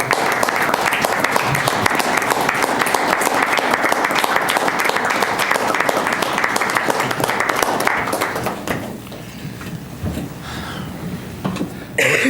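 Audience clapping after a voice vote on a joint proclamation at a public meeting, sustained, dense and loud for about nine seconds, then thinning to scattered claps with a few coughs and quiet murmurs.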